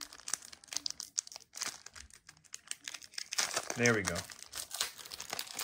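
Crinkly plastic wrapper of a Pokemon Crown Zenith card pack rustles and tears open up close in short bursts, with a louder crackle near the end. A voice speaks briefly over it.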